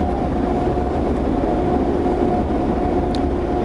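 An Egyptian Railways passenger train runs on the rails between Cairo and Luxor, giving a constant low rumble and rattle heard from inside the carriage with no talking.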